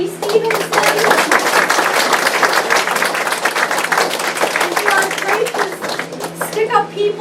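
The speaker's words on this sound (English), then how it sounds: "another applause for Miss Abby Stevenson" Dense, steady clapping from the audience at a historical society presentation, filling the room for about seven seconds, with a low electrical hum underneath and a few voices breaking through near the end.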